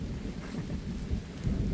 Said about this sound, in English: Giant crack of thunder.